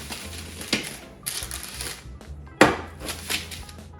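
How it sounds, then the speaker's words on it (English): Knife slicing through a sausage and artichoke pizza, a few crisp, close cutting crunches and scrapes on the board separated by short pauses. "Let's cut our pizza."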